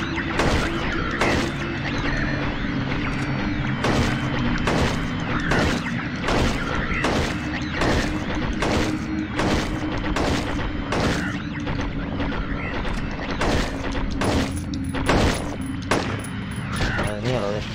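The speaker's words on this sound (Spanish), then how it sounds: "Voy a moverte, pero le disparo a la pared." Rapid, evenly spaced gunshots in Silent Hill 3 fire in a long steady burst at a wall, loud and close, over a continuous low mechanical hum.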